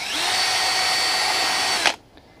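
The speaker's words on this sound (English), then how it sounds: "So I'm going to take a 3/16 inch drill bit," A power drill with a 3/16 inch bit whines steadily at high pitch for about two seconds while boring out holes, then stops abruptly, leaving near silence.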